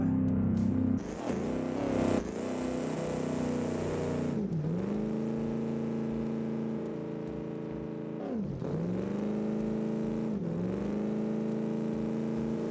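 A Chevy truck in four-wheel drive, close to overheating, drives off-road in the BeamNG.drive racing game, its engine droning steadily with several throttle lifts and revs that dip and climb again.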